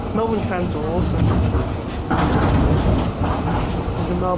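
A Melbourne tram rumbles along its rails with a steady low roar and occasional rising wheel squeals and clacks, loud and close, with voices mixed in around it.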